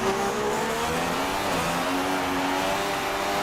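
In the F1 2016 racing video game, seen from an onboard camera, Rosberg's Mercedes overtakes a McLaren with a Honda engine. Whining engines rise in pitch steadily, with no gaps, under a loud, dense roar of racing cars.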